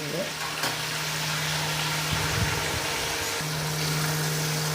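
Onions frying with salt in a pan, giving a steady, loud sizzle that runs throughout, with a low hum underneath and faint voices in the background.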